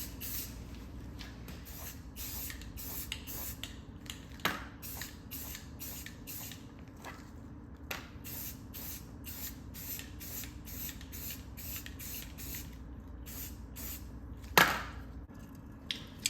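A wooden limb-mounted bow quiver being spray painted camouflage, heard as repeated short hissing bursts from a spray can over a quiet background, with a few soft knocks and one sharper clack near the end.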